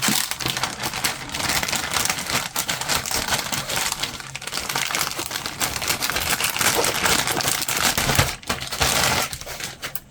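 Plastic bags holding sprues from a Trumpeter 1/35 M270/A1 rocket launcher model kit, handled up close with continuous crinkling, rustling and clicking of plastic parts and no talk.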